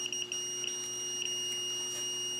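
A multimeter on continuity test across the triac of a faulty Lutron Maestro dimmer switch gives a steady high electronic beep, with faint clicks and handling noise over a low background hum.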